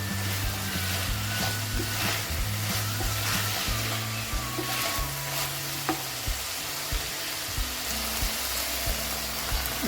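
Chicken pieces fry and sizzle in a pan for a Coimbatore-style Chintamani dry fry, a steady close hiss with occasional stirring scrapes and soft pops throughout.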